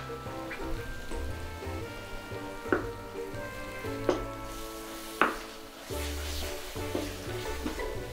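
Curry powder paste fries in separating oil for a Mamak-style fish head curry, a soft continuous sizzle broken by a few sharp stirring clacks and scrapes against the pan.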